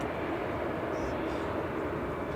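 An Aer Lingus airliner arriving from JFK at Manchester Airport makes a faint, steady engine rumble that drones evenly in the distance, with no other sounds standing out.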